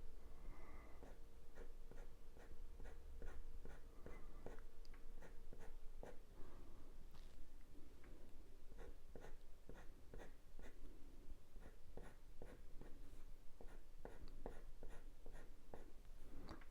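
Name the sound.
thin coloured pencil drawing on coloured paper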